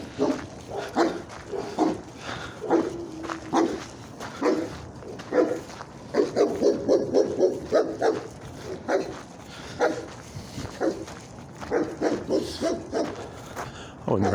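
A dog barks repeatedly outdoors on a cold residential street, bursts of barking mixed with a person talking close by.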